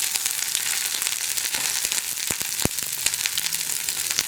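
Dried red chillies and curry leaves crackle and sizzle in hot oil, a dense, steady frying hiss with sharp pops scattered throughout, close and without talk.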